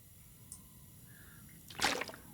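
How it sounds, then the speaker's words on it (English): Water drips in The Long Dark survival game: a faint tick early on, then a louder wet splash-like drop near the end over a quiet, steady background. "I can hear the sound of the water dripping"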